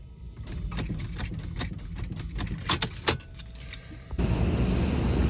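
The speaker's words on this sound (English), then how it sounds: "Yeah, I'm just getting a clicking for the starter." A Toyota Land Cruiser with a starting fault gives a rapid, irregular run of sharp starter clicks that never catch, close and fairly loud, before a steady broadband hiss takes over near the end.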